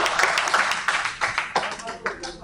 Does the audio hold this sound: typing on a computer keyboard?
no